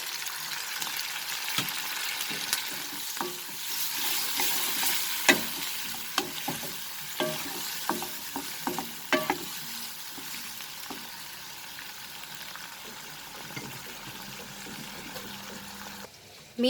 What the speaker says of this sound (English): Over a high flame, we'll cook this for a minute